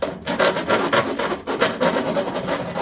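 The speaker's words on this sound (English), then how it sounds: "What we have here is a metal filing tool" A hand-held metal file rasps back and forth over the sharp, freshly drilled edge of a metal rain barrel downspout, giving steady, close, scratchy strokes with no pauses or talk.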